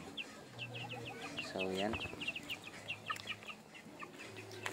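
Rhode Island Red chickens cluck in a free-range yard, with soft repeated clucks and peeping heard faintly under a person's talking, and one louder drawn-out call partway through.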